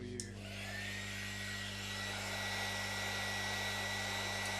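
A heat gun blows hot air onto a Drennan Avon fishing rod being repurposed, a steady whining, humming blast that spins up and holds close by with no talk over it.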